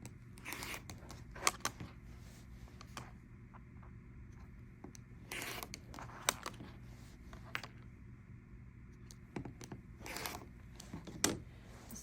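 Scissors or a rotary cutter slicing through quilt fabric pieces two layers at a time, giving faint scattered snips and crisp cuts in short bursts over a quiet room with a low steady hum.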